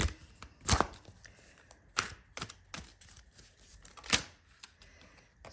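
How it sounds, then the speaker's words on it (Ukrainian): Scattered soft clicks and slaps of tarot cards hitting a surface, several sharp bursts at irregular intervals, close and fairly quiet. "Знову розлітаються карти"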